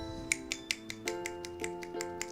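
Crisp finger snaps, poetry-club style, click in a loose irregular series of about a dozen over soft, steady background music, with no voices.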